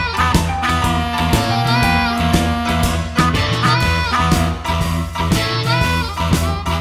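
A driving boogie with harmonica: wailing harmonica fills ride over a loud, dense full band with steady drums and bass throughout.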